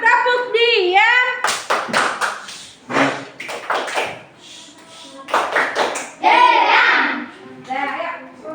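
Group of children clapping a short rhythmic patterned clap to call for quiet, sharp clustered hand claps in bursts, interleaved with an adult's speech and children's voices.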